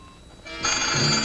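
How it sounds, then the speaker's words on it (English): A telephone rings in an old film scene: a faint tone first, then a loud electronic trill that swells in and keeps sounding. "Answer the phone or the curtain gets it."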